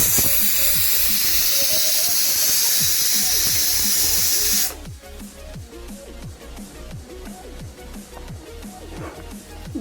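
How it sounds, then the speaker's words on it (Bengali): A pressure cooker boiling chana dal lets out a loud, steady hissing whistle of escaping steam for several seconds, then stops abruptly and leaves quieter bubbling and rattling. "প্রেসার কুকারে ডালটাতে 2টো সিটি দিয়ে নিচ্ছি"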